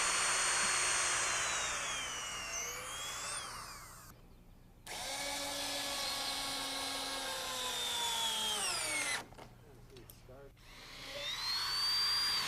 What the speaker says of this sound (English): we drill pilot holes through the decking.